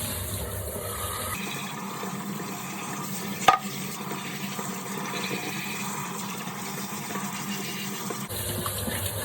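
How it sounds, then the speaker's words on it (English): Dirty aquarium filter socks being rinsed in water, a steady close sloshing and running-water wash that holds evenly for several seconds with one brief sharp knock near the middle. "Rinse these guys out real good."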